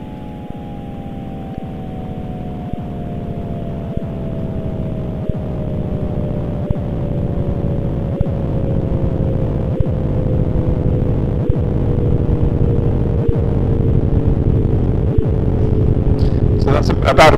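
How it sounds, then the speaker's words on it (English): Cosmic microwave background fluctuations turned into sound: a loud, droning hum with a slowly falling pitch and a faint, regular throbbing pulse runs steadily throughout. "that's about 1 billion years of evolution of the fluctuations in the microwave background"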